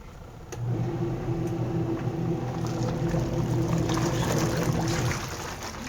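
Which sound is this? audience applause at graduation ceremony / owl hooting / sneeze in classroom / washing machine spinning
washing machine spinning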